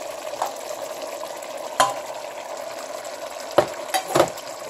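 Eggplants boil in a pot for a salted fish dish, a soft bubbling simmer broken by a few brief stirring knocks and scrapes.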